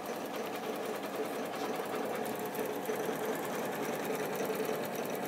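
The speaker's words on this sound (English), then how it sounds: "Isn't this such a delight of a sewing machine?" An Elna 780+ sewing machine stitching steadily, a fast even mechanical whir with rapid needle ticks running continuously for several seconds, close and without talk.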